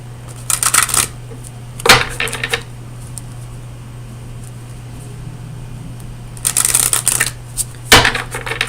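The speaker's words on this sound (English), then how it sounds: "So let me get you a card from the Oracle of Visions." Oracle cards for a tarot reading being shuffled, two loud riffling bursts near the start and two more near the end, close and crisp over a steady low electrical hum.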